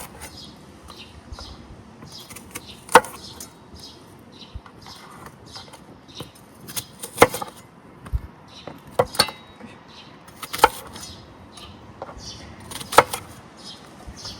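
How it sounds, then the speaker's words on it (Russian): A knife chopping onion into pieces on a board, a handful of sharp, close taps at irregular intervals over quiet kitchen background. "Лук режем на такие кусочки и добавляем к мясу."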